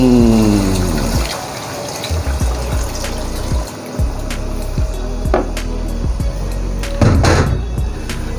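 Yakhni broth poured into a pot of meat for aloo gosht, a steady close liquid rush with sloshing and a few splashy bursts, no talk.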